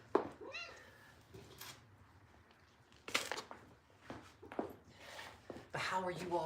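A cat meows faintly a couple of times in a room during a live stream, mixed with a person's chatter and small handling clicks and rustles.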